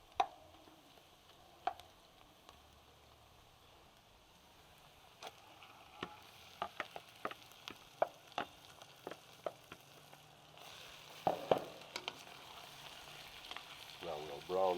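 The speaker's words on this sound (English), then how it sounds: "Now we'll brown all of that before we make the soup." Meat and shrimp marinated in Worcestershire sauce and pepper brown in a pan, giving a quiet, steady sizzle broken by scattered sharp ticks and clatters of stirring, with no talk.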